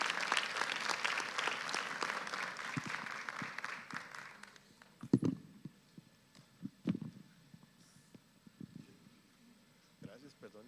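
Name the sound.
audience applause after a lecture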